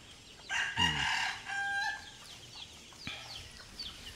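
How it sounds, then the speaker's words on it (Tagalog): Chickens on a Rizal farm crow loudly and cluck close by, a long crow followed by shorter calls and softer clucking, with other birds chattering in the background. "nagliwaliw ang mga manok ni Kuya Rudy"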